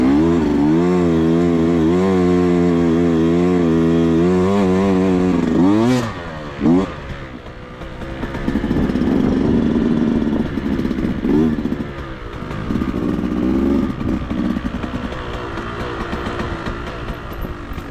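A GasGas EX250 dirt bike engine runs loud and close, holding a steady buzzing rev for several seconds before a sharp blip and drop, then settling into a rougher, uneven running note.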